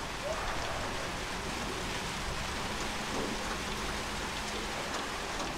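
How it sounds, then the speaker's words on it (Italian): Heavy rain pours steadily in the Hairdresser Simulator video game, a dense, even hiss of drops on surfaces that stays constant and moderately loud throughout, with no other clear sounds. "È ricominciato a piovere duro."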